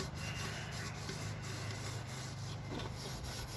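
A polishing disc grinds steadily against a metal part during a 1965 Ford Thunderbird rebuild, giving a continuous close rasping, rubbing drone with a low motor hum underneath and no pauses.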